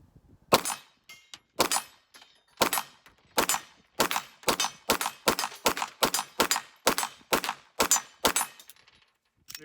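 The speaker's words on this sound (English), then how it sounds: "let's do some shooting with this bad boy and show you kind of my experience I've had with the gun thus far" A Hudson H9 pistol fires about fifteen shots at a target 25 yards away, each a sharp, loud crack with a short decay, spaced unevenly at first and then in a faster steady string.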